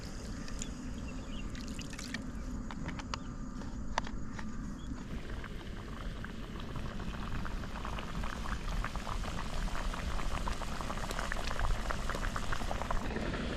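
A pot of fish curry bubbles and sizzles steadily, then water is poured in and the simmering continues louder and more vigorous.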